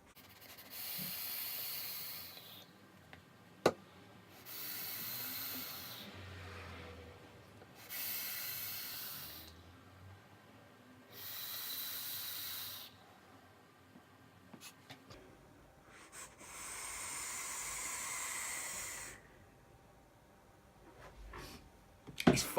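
Coils on a Kennedy Ruby 25mm stainless steel two-post atomizer fire in repeated hissing, sizzling bursts of roughly two seconds each, four evenly spaced pulses and then a longer one, close by and fairly soft with quiet gaps between.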